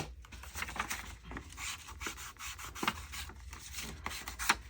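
Edges of double-sided junk journal paper being distressed, close soft scraping and rubbing in repeated short strokes with small crisp scratches.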